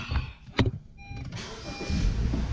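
A 2016 Honda HR-V engine cranks and catches after a few clicks and a brief whir, then settles into a steady idle close by.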